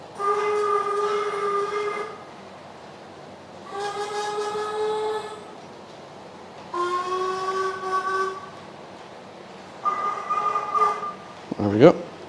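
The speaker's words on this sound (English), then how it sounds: "every time you press the whistle button, you get a different sound" A model railway train whistle blows four times in turn, each blast a slightly different harmonic tone lasting one to two seconds, with a sliding sound right at the end.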